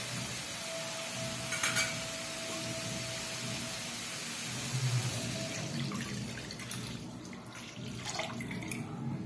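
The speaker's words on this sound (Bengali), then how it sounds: "এবার এর মধ্যে আমি নারকেলের দুধটা ঢেলে দেব।" Coconut milk poured into cooked spice paste in a pan for a Bengali palm-fruit malaikari curry, a soft steady liquid pour with faint sizzling and stirring, close and quiet, no talk.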